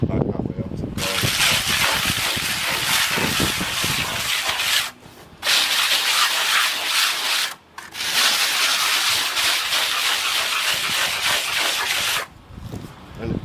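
A trowel or float rubs a thin coat of silicone render across a wall. Loud, close, abrasive scraping strokes run in long sustained passes, broken by short pauses.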